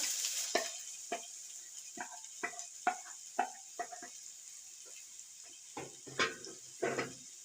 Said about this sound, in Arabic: معايا معلقتين زيت، وهنزل عليهم ببصلة